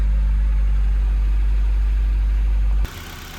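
A 2003 Honda Civic Si EP3 engine idles steadily at close range with a low, even hum, then the sound cuts off abruptly just before the end. No one speaks.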